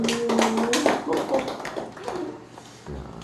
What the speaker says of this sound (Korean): 이때 박수 쳐야 됩니다.